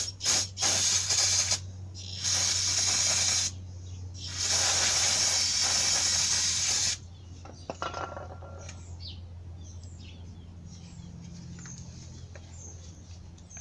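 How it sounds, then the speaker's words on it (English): Brake cleaner sprayed from an aerosol can to strip grease off the front brakes of a 1994 Ford Ranger: three loud, close hissing bursts of a few seconds each, then quieter rustling and handling noises. "Got some good old brake cleaner. I'm just gonna brake clean the rest of this grease off."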